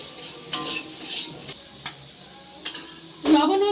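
Hog plum pieces frying in a pan with salt and turmeric, a soft sizzle broken by scattered scrapes and taps of a spatula, ending in a louder stir.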